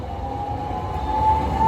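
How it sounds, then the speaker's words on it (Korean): A Toden Arakawa Line streetcar approaches along a rose-lined track with a steady low rumble and a thin tonal whine that grows louder toward the end. "장미길 따라 전차가 올라오고 있습니다"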